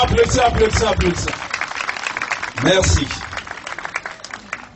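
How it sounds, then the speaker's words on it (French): Audience applause at a gathering after a closing speech, a brief loud burst of clapping that fades under a voice speaking. "Applaudissez"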